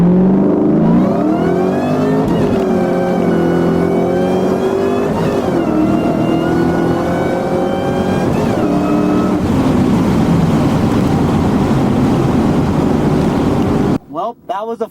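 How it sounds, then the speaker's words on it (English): A Cobra car accelerates hard through a first gear pull, its engine note loud and rising in pitch and then continuing as a roar, with heavy wind rush and a brief cutoff at the end. "First gear pull right here."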